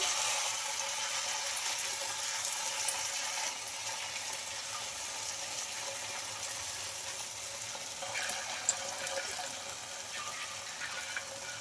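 Rice-flour Kurkure dough frying in hot oil, a dense continuous sizzle and crackle held close and steady throughout, with small bubbling bursts and no talk over it.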